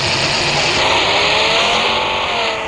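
A fast car's engine in a driving video game, a steady loud mid-pitched drone with rising revving tones, continuous and alone throughout.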